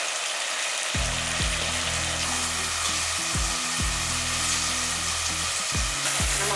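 Onions sizzling in hot oil in a pan, a constant bright crackle with repeated low scraping thumps, like a spoon stirring.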